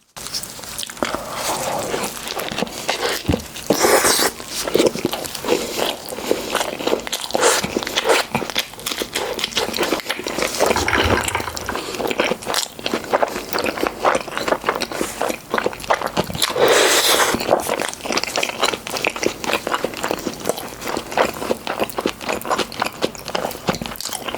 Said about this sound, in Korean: 네, 한번 먹어보겠습니다.